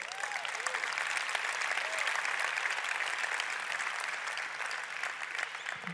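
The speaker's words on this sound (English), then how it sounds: "We need to clap that up for a second" Steady, dense applause from an audience at a talk on content creation, filling the whole stretch at moderate level with no voices over it.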